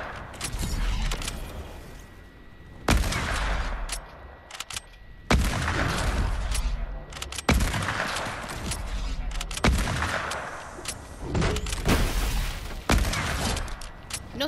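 Sniper rifle gunfire in the Fortnite video game: about five sharp, heavy shots spaced a couple of seconds apart, each a loud crack with a booming tail, over a steady background of game noise.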